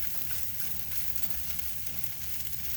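Eggs fry in a pan alongside fried rice, giving a dense, constant sizzle and crackle that stays close and even for the whole stretch, with no voices.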